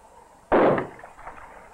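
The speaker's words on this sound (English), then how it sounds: "Metallic sodium, which detonates when mixed with water." A piece of metallic sodium detonating in water makes one sudden, loud burst that decays quickly into a short rumbling tail, standing alone in an otherwise quiet scene.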